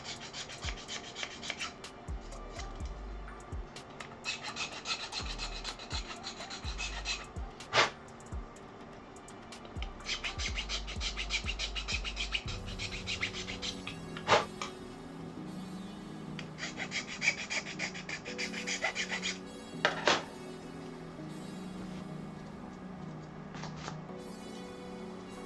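A hand file works on a 3D printer part during a Voron 2.4 kit build, making repeated close rasping strokes in uneven bursts with short pauses between them.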